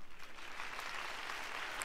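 A short burst of applause in the video game Batman: The Telltale Series, many hands clapping together at an even level, with no voices over it.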